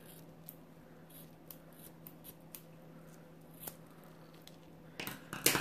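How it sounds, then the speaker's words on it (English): Scissors snip off the knotted end of a balloon stuffed with small balls for a homemade fidget toy, a few quiet close cuts and rubbing sounds ending in a louder burst of handling noise. "you're going to cut this off with the scissors"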